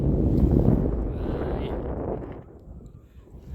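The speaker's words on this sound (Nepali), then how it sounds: "लास्टै हावा चल्छ यहाँ" Strong wind blowing across a high hilltop, buffeting the microphone in loud gusts that ease toward the end.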